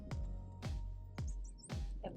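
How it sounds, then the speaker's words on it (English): A sparrow on Bonaire gives four short, sharp chirps, evenly spaced about half a second apart. They are faint and distant, with a few fainter high notes in between. "Oh, Sparrow."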